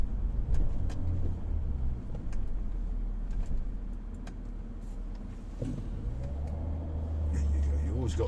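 A car engine drones steadily on the early-morning drive up to Peyia village, with a low rumble throughout and light road noise, rising slightly near the end.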